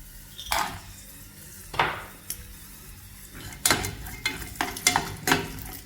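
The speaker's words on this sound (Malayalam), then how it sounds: "അണ്ടിപ്പരിപ്പ് ഇട്ടിട്ടുണ്ട് അതൊന്ന് മൂത്ത് വരുമ്പോൾ നമുക്ക് കിസ്മിസ് ഇട്ട് കൊടുക്കുക" Cashews and raisins frying in ghee for Onam wheat payasam, with a soft sizzle under close metallic scrapes and clinks of a spoon stirring in the pan, coming in irregular strokes.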